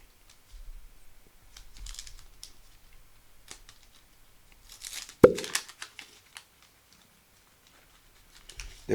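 Vintage Rock Stars wax card packs, decades old, are ripped open by hand: scattered light crinkles, then a sharp tearing rip of waxy paper followed by brief rustling and crinkling, close up with no talking.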